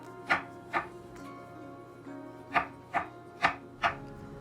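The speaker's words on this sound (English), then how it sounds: "Slice all the mushrooms." A knife slices through mushrooms on a board in six crisp, distinct cuts spaced unevenly, each a short close thud with quiet pauses between.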